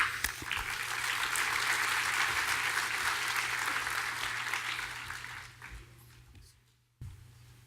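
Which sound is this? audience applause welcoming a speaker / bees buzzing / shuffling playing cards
audience applause welcoming a speaker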